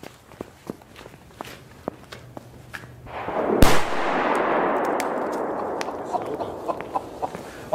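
A Funke SB firecracker bursts with one sharp, loud bang after a few scattered footsteps and light knocks, followed by a long hissing, crackling tail that slowly fades.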